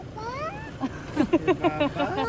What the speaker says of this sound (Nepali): म्याउ भन्यो।